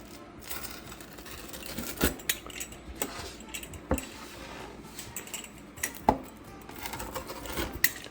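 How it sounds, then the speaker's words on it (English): A Red Baron Brick Oven Cheese-Trio pizza is sliced with a cutter or knife, producing sharp metallic clicks and scraping taps at irregular intervals, close and moderately loud. "Let's go ahead and cut into or slice into this one."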